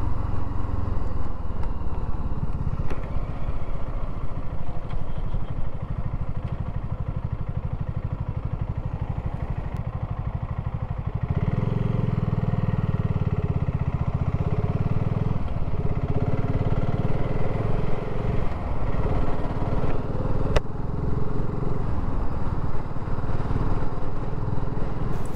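Motorcycle cruising on the A19 at 70 mph, just over 4,000 revs, gives a steady, loud engine drone with wind roar throughout, deepening and swelling midway as the load or passing traffic changes.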